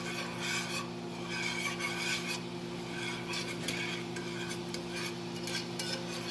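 Balsamic pan sauce with butter simmering in a pan while a utensil scrapes and stirs it, a continuous soft sizzle under repeated rasping strokes against the metal, fairly quiet and with no voices.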